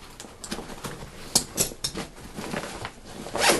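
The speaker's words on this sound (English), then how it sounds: "You can zip down about a little over 3/4 of the way and open up the pack." Zipper on the main front compartment of a Camelbak HAWG Mil Tac 2013 backpack being drawn open in a run of short, close rasping pulls, with a longer zip at the end.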